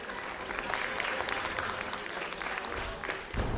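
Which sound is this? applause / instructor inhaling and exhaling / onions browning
applause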